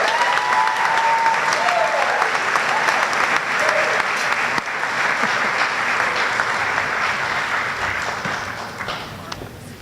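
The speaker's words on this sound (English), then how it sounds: "Give them a round of applause." A school awards program audience applauds music department award recipients, a broad continuous wash of clapping from a large crowd that holds steady and slowly fades near the end.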